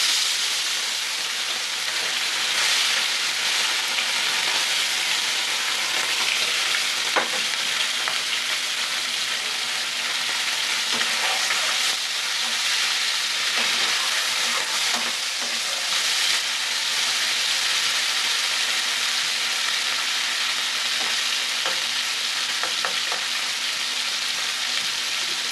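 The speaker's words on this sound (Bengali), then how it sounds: "তেলটা গরম হয়ে গেছে, এবার ট্যাংরা মাছগুলোকে ভাজা করব।" Tangra fish frying in hot oil, a constant close sizzle and crackle with faint scattered clicks of handling throughout.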